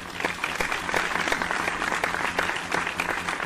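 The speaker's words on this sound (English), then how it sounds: "That's right, applause all around." Applause in the video game Donkey Kong Country 3: a crowd applauds steadily for a few seconds, a dense patter of many hands clapping at moderate volume.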